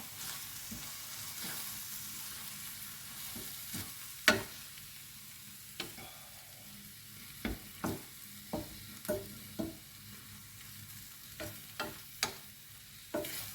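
Spinach sizzles softly in a frying pan with a faint, steady hiss, broken by a dozen or so sharp scrapes and taps from stirring, spaced irregularly and heard close with no voices.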